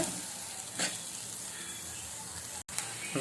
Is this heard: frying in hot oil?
yes